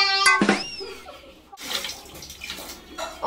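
Water splashes and sloshes as a child is bathed in a tub of warm water, with short bursts of splashing separated by quieter gaps and a brief squeaky tone near the start.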